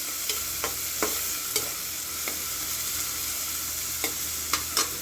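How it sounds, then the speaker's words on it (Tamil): Finely chopped onions sauté in hot oil under a steady sizzle, punctuated by occasional clicks and scrapes of a spoon stirring the pan. "கொஞ்சம் நேரம் வெங்காயம் நல்லா வதக்கிக்கிடுவோம்."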